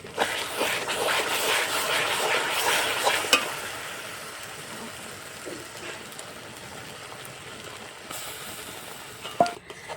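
Raw mango jam is stirred in a pan with sugar, a busy sizzling bubble under steady scraping strokes of a spoon, louder at first then settling quieter, with a few sharp clinks against the pan and no talking.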